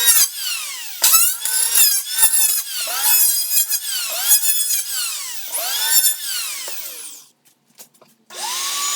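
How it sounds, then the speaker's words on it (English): Electric planer leveling the rough surface of a plywood sheet, a loud whining cut with repeated passes that rise and fall, separated by short gaps, then a brief pause before the motor spins up again. "I'm going to try to level off the roughest parts of this plywood with the electric planer."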